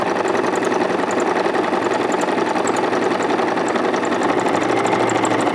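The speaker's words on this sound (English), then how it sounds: "So I'm going to start by just sewing on the line" A sewing machine stitching steadily along a marked line, its close, loud, rapid even mechanical whirring running without pause and with no talk.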